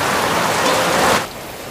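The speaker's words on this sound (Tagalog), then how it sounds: "Lumakas na po talaga ang ulan." Heavy rain pours down steadily in a close, loud hiss on a windless day, then eases noticeably in the final moments.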